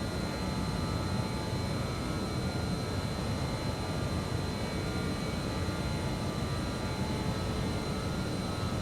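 Airliner jet engines spool to takeoff thrust in Microsoft Flight Simulator 2024, producing a loud, unbroken roar with a faint high whine running through it for the whole stretch, with no talking.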